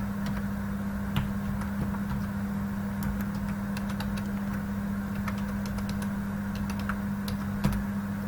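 Typing on a computer keyboard: scattered soft key clicks at an irregular pace over a steady low hum, with no one talking.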